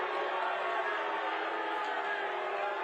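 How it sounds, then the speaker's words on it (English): Large convention-hall crowd at a libertarian convention booing Trump, a dense, steady roar of many voices sustained loudly throughout with no let-up. "they're booing him hard as fuck"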